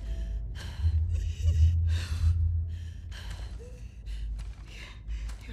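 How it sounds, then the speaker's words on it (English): A wounded character in The Last of Us Part II breathes heavily and raggedly. The gasps and sighs come close and fairly loud, repeated over a low rumbling background, with no speech. "Your breathing's worse."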